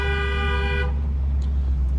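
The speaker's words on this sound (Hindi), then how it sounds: "ब्लाइंड टर्न है, हॉर्न दो।" A car horn sounds once at a blind turn on a hill road, a loud close steady honk lasting under a second over the rumble of the engine and road.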